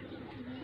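A pigeon coos softly in a brief low call, with background voices and chatter around it, at a pigeon-flying tournament in Faisalabad, Pakistan.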